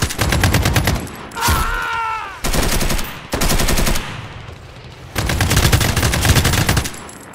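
Toy army men stop-motion battle gunfire effects rattle in loud machine-gun bursts, several separate volleys with short gaps, and one whistling, swooping effect between the first bursts.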